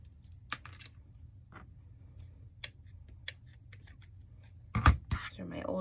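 Older scissors snip through fabric for a bunny wreath, giving a few crisp, close cuts near the end after quiet rustling and soft handling sounds.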